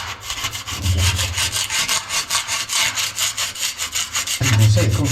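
A cheap hand scraper drags over a lime-washed cave wall in quick, rhythmic back-and-forth strokes, loud and close, with a continuous gritty rasp.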